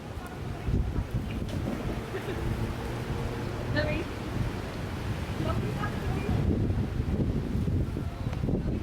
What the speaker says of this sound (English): Incredible breeze.